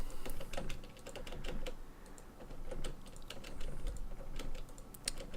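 Quiet, steady typing on a computer keyboard, a continuous patter of soft key clicks and occasional sharper taps heard close up with no talking.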